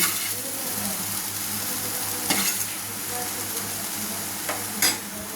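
A spatula stirs and scoops fried soybeans from a pan onto a plate under a continuous soft frying sizzle, with two brief, sharper scrapes of metal against the pan, close up.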